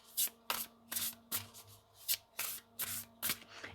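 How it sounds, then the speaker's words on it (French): Large oracle cards are shuffled by hand in quick, regular riffling bursts, close and crisp, about ten flutters in a row with no talking. "J'aime bien le bruit qu'elles font quand elles se mélangent."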